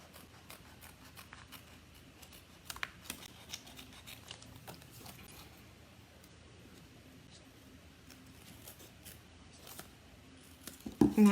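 Scissors trim paper cardstock around a card flap, a quiet run of soft snips and rustles over several seconds with a louder crunch of handling at the end.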